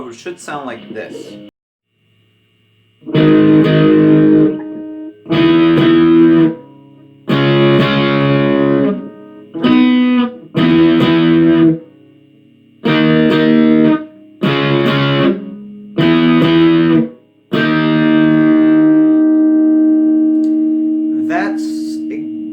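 Distorted electric guitar picking out a melody in clipped, separate phrases with short gaps, ending on a long ringing held note, loud and close.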